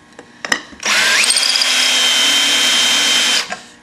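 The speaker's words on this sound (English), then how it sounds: "now we need to countersink. I got a better countersink this time." A drill runs a countersink bit into a hole, a few handling clicks and then a steady high whirring spin that rises briefly in pitch before holding for about three seconds and cutting off.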